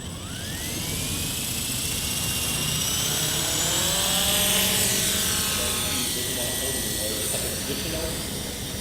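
A small motor whines steadily while its pitch climbs and bends, the hum of a hovering Walkera HM UFLY S model helicopter flown with its canopy off, held close and continuous throughout.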